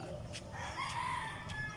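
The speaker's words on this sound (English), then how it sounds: "Birds." A chicken calls over steady outdoor background noise, with a few brief bird chirps and a short clucking tone in the middle, moderately loud and fairly close.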